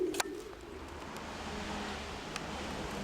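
Pigeons cooing softly nearby, a faint low murmur under steady outdoor hiss, with a couple of brief sharp clicks or rustles.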